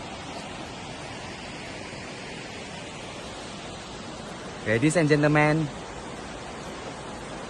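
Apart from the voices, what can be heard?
Tumpak Sewu waterfall roaring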